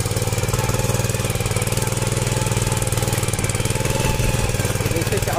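A mini power tiller's small engine runs steadily in third gear while ploughing a field, a loud, continuous throbbing drone with a rapid pulsing beat that holds without a break throughout.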